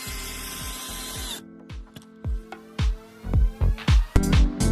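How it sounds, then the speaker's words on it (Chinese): A drill-screwdriver two-in-one tool bores a pilot hole for a screw: a steady motor whine gives way to a series of short, sharp mechanical bursts and clicks, close and fairly loud, with no talking. "用它提前打孔，可以更好的贴合螺丝钉。"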